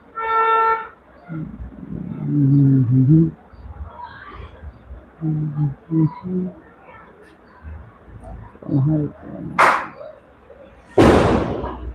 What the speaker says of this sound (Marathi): फटाके